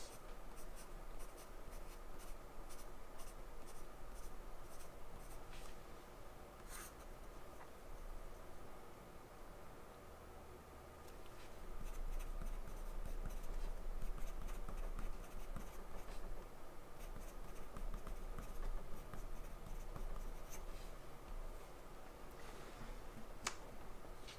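Pencil scratching across paper in close, quiet strokes, a continuous soft scrape with brief taps and lifts, steady and a little stronger in the second half, with no talking.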